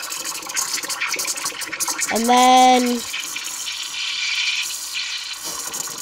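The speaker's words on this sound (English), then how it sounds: "pushing bubbles into the milk" Milk being frothed for warm vanilla milk with foam, air pushed in as bubbles: a steady hiss with a brief, loud, rising squeal in the middle, and a voice speaking briefly over it.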